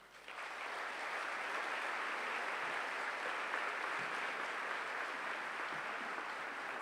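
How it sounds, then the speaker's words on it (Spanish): A crowd at an engineering students' congress applauds to welcome the speakers from Ingeniería sin Fronteras: steady, dense clapping that rises quickly and holds evenly throughout, with no voices on top. "Los recibimos con un fuerte aplauso."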